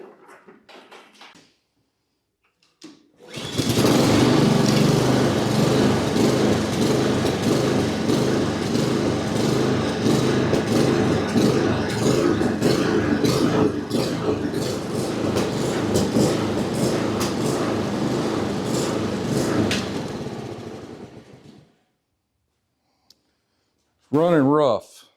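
A little Honda Versamo lawn mower, in for its yearly service, starts up and runs rough for about eighteen seconds, its engine note loud and close with a rhythmic surging pulse before it cuts out; a voice speaks briefly at the end.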